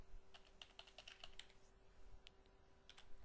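A password is typed on a computer keyboard: a quiet, irregular run of soft key clicks in a burst, then a pause and a few scattered taps.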